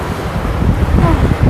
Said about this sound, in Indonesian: Anginnya gede banget ini.